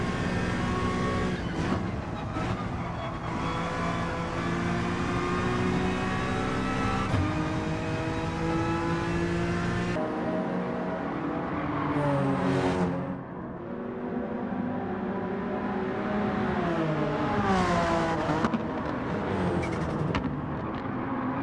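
Honda NSX and Genesis G70 race car engines at Watkins Glen, a loud sustained roar with rising and falling harmonics as gears change, the engine note dropping briefly midway before climbing again.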